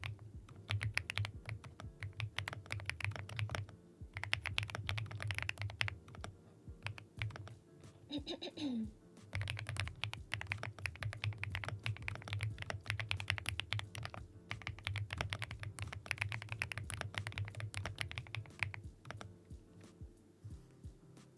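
Steady, rapid clicking from a mechanical computer keyboard with a pebble-like clack, typed up close with only brief pauses and no voices, over a faint low hum.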